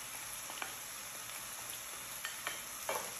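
Spicy chicken risotto stirred in a sizzling frying pan, a steady frying hiss punctuated by several sharp scrapes and clicks of the utensil, close and without talk.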